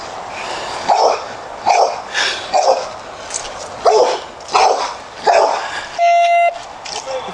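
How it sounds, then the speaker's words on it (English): Several dogs bark and snarl in repeated loud bursts while attacking, with a brief electronic tone near the end. "but the dogs are mauling the body."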